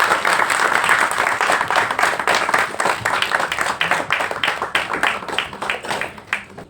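An audience at a Tamil film audio launch event claps in a dense, sustained burst of applause that gradually thins and fades toward the end, filling the hall with no speech over it.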